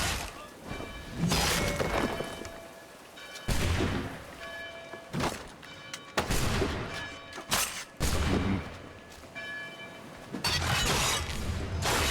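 Gunfire in the video game Assassin's Creed 3, scattered loud cracks and crashes over a continuous busy battle din with musical tones, several sharp bursts spread throughout.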